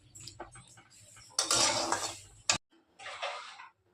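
A pan of taro curry with dried fish, onion and garlic paste being stir-fried, with metal spoon clinks and scrapes on the pan, a loud burst of sizzling stirring, a sharp knock and then another stretch of sizzle.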